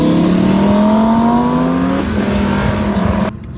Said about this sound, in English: Twin turbo V10? Listen to those turbos spooling,